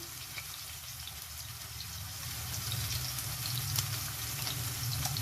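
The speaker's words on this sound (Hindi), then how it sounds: "मैं 1 से 2 हरी मिर्चें इसको काट के डालने लगी हूँ" Chopped green chillies hitting hot oil with garlic in a pan for a rice dish, a steady, close crackling sizzle that grows slightly louder, with no talking.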